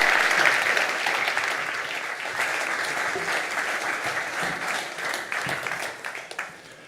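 A conference audience at a Nobel Peace Conference applauds warmly, a dense, sustained clapping that stays strong for several seconds before tapering off at the end.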